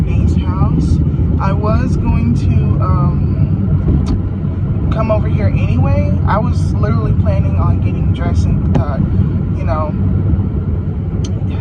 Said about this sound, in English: I'm in the car because I am immediately driving over